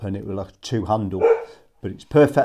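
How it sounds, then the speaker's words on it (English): A dog in a workshop gives a few short barks mixed into a man's close, steady talk, hard to separate from his voice. "that's my dog."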